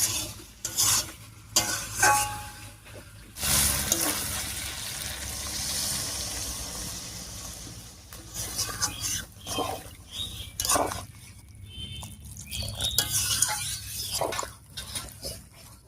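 Water is poured into a simmering chicken and taro (kochu) curry to make the gravy, with bursts of bubbling sizzle, splashing and stirring against the pot over about sixteen seconds, with no voices.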